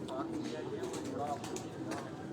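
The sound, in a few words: pigeons cooing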